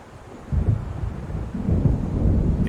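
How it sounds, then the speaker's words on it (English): Low rolling thunder from an approaching storm in the video game Alan Wake Remastered, rumbling steadily and swelling in two long surges, with a faint rain-like hiss underneath and no talking. "It seems there's a storm coming."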